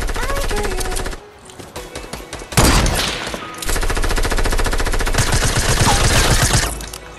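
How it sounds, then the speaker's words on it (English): Rapid automatic gunfire from the video game Fortnite rattles loudly in sustained bursts, dropping out briefly near the start before resuming hard and continuous for most of the stretch, with no clear talk over it. "Why are you shooting at me, dude?"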